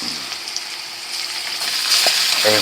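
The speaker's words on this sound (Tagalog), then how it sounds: "So, igisa muna natin to guys." Pork and chicken meat sautéing in a hot pan for adobo, a loud, steady hiss and crackle of frying with a few light stirring knocks near the end.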